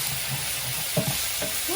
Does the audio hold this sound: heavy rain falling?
no